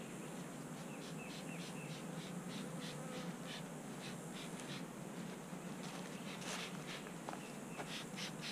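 Faint, continuous buzzing of a swarm of bees around a hive, steady and low-level with occasional brief clicks and rustles, no voices.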